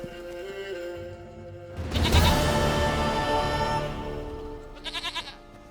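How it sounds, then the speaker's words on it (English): Goat bleating in the video game The Witcher 3, a long, loud, wavering bleat followed by a shorter stuttering one, heard alone over quiet ambience. "Goat of mine, dearest, sweetest goat."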